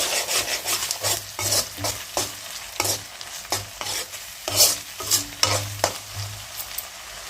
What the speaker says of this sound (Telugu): అల్లం వెల్లుల్లి పేస్ట్ పచ్చివాసన పోయేంత వరకు ఫ్రై చేసుకున్నామండి.